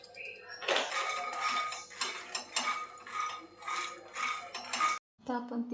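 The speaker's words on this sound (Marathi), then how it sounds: "आता आपण मखाने भाजून घेऊया." Fox nuts (makhana) roasting in a pan, stirred with a utensil, give a busy rattle and clatter of light pieces against metal, continuous and close, then a brief pause before the scraping resumes.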